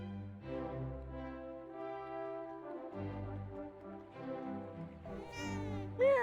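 Cat meowing from the Dragon Quest VII Reimagined game, a few drawn-out harmonic meows over background game music, fairly close and clear, with a sharper cry near the end.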